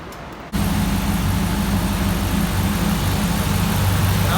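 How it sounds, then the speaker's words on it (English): A Ram truck engine with a new cam fires up after a short quiet moment and settles into a steady, loping idle that stays loud and close. "So we're gonna start it back up."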